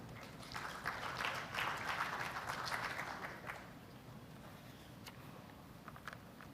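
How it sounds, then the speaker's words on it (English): Applause from an audience at a G20 Indonesia side event on blue carbon, greeting a speaker called to the podium; moderate clapping swells for a few seconds, then thins to a quieter room tone. "Please give a big round of applause."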